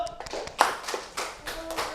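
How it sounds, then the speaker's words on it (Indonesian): A short run of hand claps, several quick soft claps in an irregular rhythm, fairly close in a quiet room. "Oke, tepuk tangan dulu."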